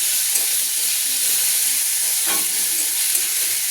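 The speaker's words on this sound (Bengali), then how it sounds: "তো এখানে দিয়ে ভালোভাবে একটু নাড়াচাড়া করে নিতে হবে।" Spiced ingredients stirred in a hot frying pan, giving a continuous loud sizzling hiss with an occasional faint scrape of the spoon.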